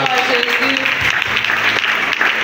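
A congregation at a Christian café gathering claps and cheers loudly, a dense wash of applause with voices calling out over it.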